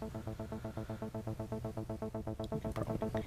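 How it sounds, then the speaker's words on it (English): The Noisy Drops patch on a Zeta 2 synthesizer plays a fast, steady pulsing pattern of dripping, noisy tones, about six pulses a second, moderately quiet and even, with brighter high blips creeping in toward the end. "It's a sound called Noisy Drops."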